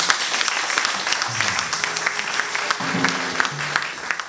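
A church congregation applauds in praise of the king of kings, with steady, dense clapping throughout and a few voices and musical tones rising faintly beneath.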